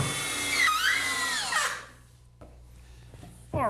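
A power drill drives screws to join wooden potting-bench leg halves, whining up and down in pitch for about two seconds, then dropping to a quiet hum before a short final burst.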